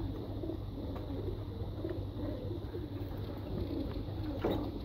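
Soft cooing of an army pigeon blends into a steady, noisy outdoor background, low and continuous rather than distinct, with no voices present.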